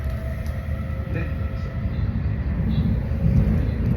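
A passenger train ride gives a steady low rumble with faint rail clatter and hum inside the carriage. The sound builds slightly toward the end, and voices are faintly present.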